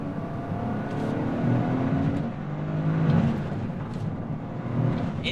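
A 2023 Toyota GR Corolla engine revs under a blip of throttle, a sustained rumbling drone that swells and eases in a few waves, close and steady with no talking.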